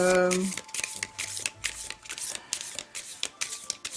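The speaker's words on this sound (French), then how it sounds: "on va aller tirer ici trois petites cartes" Tarot cards being shuffled by hand ahead of a three-card draw, with soft, rapid riffling and flicking that comes in uneven bursts. A voice talks over them throughout.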